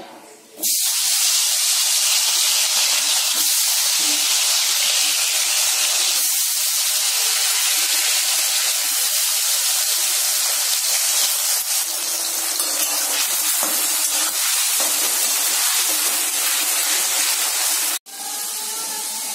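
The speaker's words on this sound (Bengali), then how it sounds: "আলুটা যে আমি লবণ হলুদ মাখিয়ে রেখেছি সেটা দিয়ে দিব, আলুটাকে ভেজে নিব।" Potatoes coated in salt and turmeric hit hot mustard oil with a loud, steady hiss of frying that holds unbroken for about eighteen seconds before cutting off abruptly.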